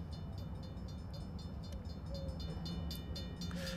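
A commuter train in Train Sim World 4 rumbles past on single track with a steady rolling drone and rhythmic wheel clatter, loud and continuous throughout, with no talking.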